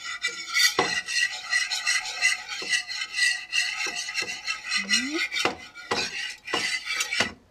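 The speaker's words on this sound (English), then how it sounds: "you're going to whisk the flour into the fat" Whisk scraping flour into hot fat in a pan, brisk repeated rasping strokes with metallic clinks against the pan, close and continuous.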